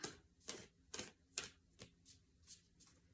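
Oracle cards being shuffled and handled: a series of sharp, crisp flicks and snaps, about eight in a row, close and fairly quiet.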